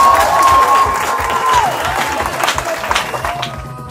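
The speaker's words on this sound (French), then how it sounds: "on applaudit de fort" Crowd applause and cheering at a customary Gabonese wedding, loud clapping mixed with shouts and chanting voices, fading somewhat over a few seconds.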